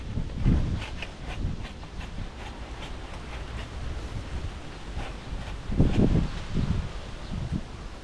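Strong wind gusts through large leaves outside a dorm, a steady rushing rustle with heavier buffeting bursts near the start and again toward the end, plus microphone wind rumble.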